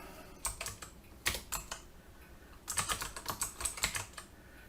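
Someone types a SQL query on a computer keyboard, producing quiet clusters of quick key clicks in irregular bursts separated by short pauses, close to the microphone with no talking.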